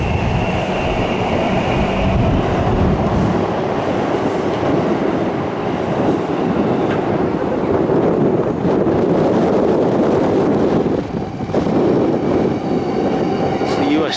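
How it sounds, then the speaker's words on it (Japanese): A Yamanote Line train passes at close range, a loud and continuous rumble with rail clatter and wind buffeting that holds steady for the whole stretch and eases only briefly near the end. "山手線が行きました。"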